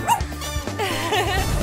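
Small dog making a few short, loud yips and whimpering barks close by, with no other sounds around them.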